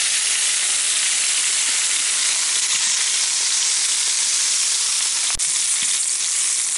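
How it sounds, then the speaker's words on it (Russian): Pink salmon sizzles in a frying pan as it is browned on both sides, a steady, loud hiss of hot oil that runs evenly throughout with one brief sharp click near the end. "Рыбу-горбушу я обжариваю с двух сторон."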